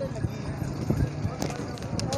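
Horses at a horse market in Gujrat, their hooves making irregular clip-clop knocks on the ground nearby, mixed with steady background crowd chatter and voices throughout.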